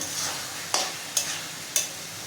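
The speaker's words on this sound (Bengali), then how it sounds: "চিকেন কিমাটা দিয়ে দিলাম। কিমাটাও এখন ভালো করে কষাতে থাকবো।" Chicken mince stir-fried with spices for biryani sizzles quietly in the pan, punctuated by three sharp scraping stirs of a spatula at regular intervals.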